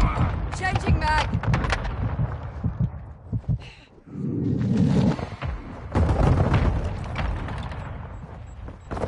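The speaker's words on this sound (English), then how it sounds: "Our mortar strike is inbound." Mortar strike in a military shooter video game lands as deep, rumbling booms, with heavy low explosions rolling through the second half amid game chatter and a voice talking.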